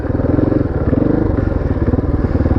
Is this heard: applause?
no